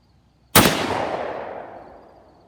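A single loud Benelli SBE 3 shotgun blast fired close by at a target, with a sharp crack followed by a long, fading outdoor echo.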